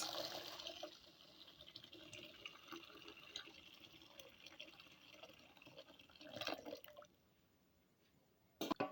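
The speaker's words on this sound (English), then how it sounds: "Next, I'll be adding some boiled water to it." Boiled water pours steadily into a pot of sieved millet with a continuous splashing rush that swells briefly near the end, then stops, followed by a short clatter.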